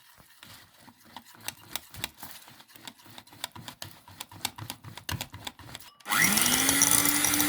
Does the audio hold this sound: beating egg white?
yes